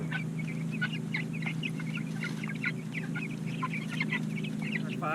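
A flock of about forty five-week-old Cornish Cross broiler chickens in a chicken tractor clucks and chirps continuously, a busy close chorus over a low steady hum.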